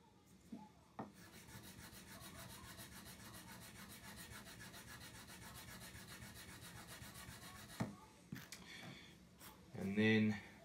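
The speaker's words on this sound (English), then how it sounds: "And then I'll switch to the 800, which already you'll see will show quite a shine. Then I'll switch to the fret eraser." Guitar frets on an acoustic guitar are rubbed with 800 grit abrasive and a fret eraser, a steady close scratchy rasping with fast back-and-forth strokes, a few knocks near the end and a voice briefly heard.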